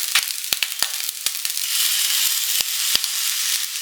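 Prawn fried rice stir-fries in a pan on a gas stove turned low, with a steady hiss of sizzling broken by sharp clicks and scrapes from stirring.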